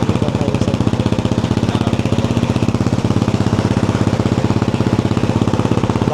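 Ducati Hypermotard 698 RVE single-cylinder supermoto engine running just after starting, fitted with a silencer, a loud steady pulsing idle close by with an even rapid thump and no talking.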